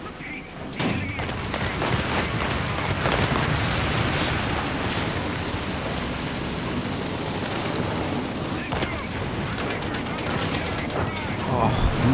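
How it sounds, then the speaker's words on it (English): Artillery barrage in the War Thunder video game: a dense, continuous roar of gunfire and explosions with sharp repeated blasts, loud and sustained for the whole stretch, with occasional voices underneath. "The enemy is preparing for artillery barrage"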